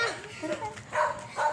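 A dog chasing people barks repeatedly from higher ground, sharp nearby barks and yips at an uneven rhythm mixed with excited human voices.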